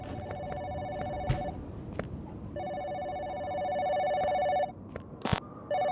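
A telephone rings inside the video game Giraffe Town, a bright electronic bell in two long repeated bursts with a gap between, fairly loud over a low ambient game background with a few sharp clicks near the end.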